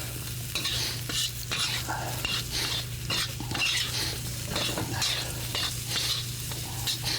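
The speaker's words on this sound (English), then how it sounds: "We'll toss them around." Mushrooms tossed and stirred in a hot wok on a wok stove, sizzling steadily with repeated scraping and clinking of utensils against the pan, a constant hum beneath.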